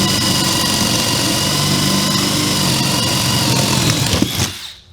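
A DeWalt cordless drill with a 5/8 wood bit bores steadily through a piece of wood, a loud, continuous high whine held for about four seconds before it winds down and stops, with no talk.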